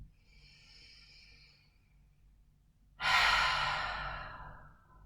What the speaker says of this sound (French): On prend une grande inspiration par le nez et on va expirer par la bouche.